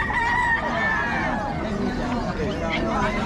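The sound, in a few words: rooster crowing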